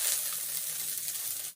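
Sliced small onions hit hot oil for a drumstick-leaf rasam tempering, giving a bright, close crackling sizzle that holds steady for a moment, then stops abruptly.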